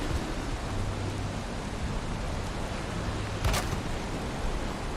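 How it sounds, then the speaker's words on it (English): Steady rain in the video game Valheim falls over a dark forest as a dense, even hiss that holds at a constant level throughout, with no voices. "It's raining."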